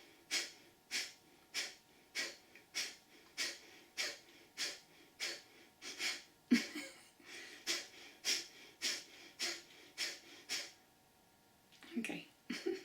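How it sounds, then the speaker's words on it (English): Rapid, forceful breaths during a breathing exercise, about twenty short regular bursts through the nose or mouth. The rhythm breaks briefly in the middle, and the breaths are close and fairly quiet. "Close your eyes and exhale."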